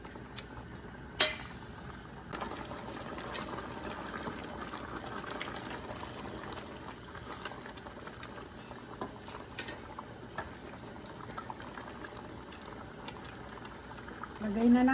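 A pot of water and tiger shrimp boils steadily for bulanglang, a low bubbling simmer running throughout, with a brief clatter early on and a voice speaking over it.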